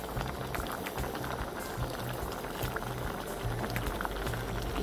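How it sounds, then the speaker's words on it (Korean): A pot of Korean spicy fish stew (maeuntang) bubbles and simmers up close at a campsite, a dense, steady burble of popping bubbles with no voices. "매운탕 끓는 소리"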